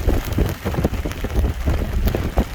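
Steady rain falling and pattering on surfaces outdoors over saturated ground, a dense continuous hiss with scattered sharper drop impacts, moderately loud and close with no talking.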